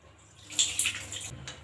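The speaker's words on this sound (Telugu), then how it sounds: "నీళ్ళు పోసుకొని కందిపప్పును బాగా కడుక్కోండి" Toor dal is swished and rinsed with water in a kitchen bowl, producing soft splashes and a few sharper sloshing bursts at moderate loudness.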